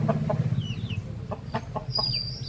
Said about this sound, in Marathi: कोंबड्या बघा कोंबड्या